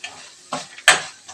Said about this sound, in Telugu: రెండింటికి ఒకటే తాలింపు పెట్టేస్తున్నానండి